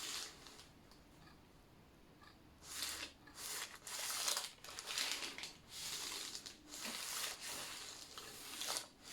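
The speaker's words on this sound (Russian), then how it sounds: "я подкладываю снизу бумагу и сверху накрываю второй половинкой" Baking paper crinkles and rustles under an iron on an ironing board as wax-treated clothing is sealed between sheets, in soft irregular bursts of crackling, fairly quiet and close, with no talking.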